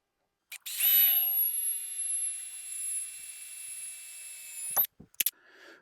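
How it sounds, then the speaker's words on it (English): A power drill cuts a pilot hole for a Borgeson steering shaft installation on an OBS Ford, a high whining squeal running steadily for about four seconds, close and alone, followed by a few clicks. "Go ahead and drill our pilot hole."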